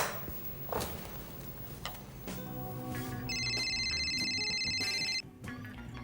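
A phone rings during an outgoing call, a steady electronic ringback tone sounding for a couple of seconds over low room ambience and faint clicks.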